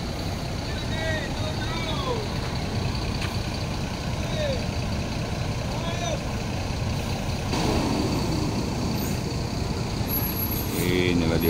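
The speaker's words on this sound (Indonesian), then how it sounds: "Inilah dia Gumarang Jaya nomor 19. Gumarang Jaya nomor 19 sudah masuk. Terus, lewat." A Gumarang Jaya jet bus, number 19, arrives and drives past at a bus stop, its engine rumble and road noise building steadily, with a short air-brake hiss and beeps, while someone talks over it.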